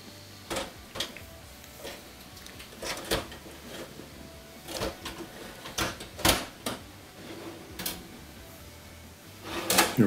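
A metal oven rack slides back into an oven during an oven temperature sensor replacement, giving repeated sharp scraping clacks and knocks in an irregular sequence, fairly close, with no talking.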